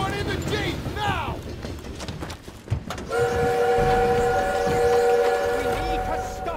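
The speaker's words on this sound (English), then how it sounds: "We need to stop that train!" A train in the Call of Duty WWII video game rumbles and clanks along the rails, then its whistle blares in loud, sustained, layered tones over the rolling noise as shouted voices break through.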